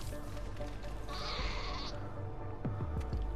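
A goat in the video game Far Cry 5 lets out a drawn-out nasal bleat, followed by a few short, gurgling bleats over a steady low background, close and distinct.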